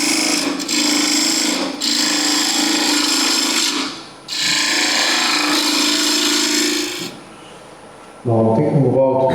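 A woodturning lathe tool cuts a tenon in spinning wood, giving loud scraping bursts broken by short pauses, then a different, sharper rasping at the end.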